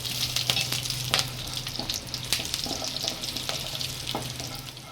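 Whole spices frying in hot ghee for a pulao, a close, continuous crackling sizzle with sharper pops and the scrape of stirring, running steadily throughout.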